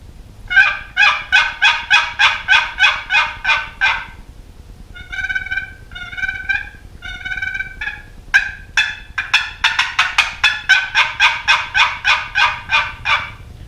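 A handheld wooden turkey call produces rapid bursts of yelping clucks, several runs of sharp repeated notes with brief pauses between them.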